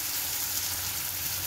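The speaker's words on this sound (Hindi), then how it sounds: "हम लोग इसको थोड़ा फ्राई होने देंगे।" Chopped onion sizzles in hot oil for chicken masala, a continuous bright frying hiss heard close and steady with no talk.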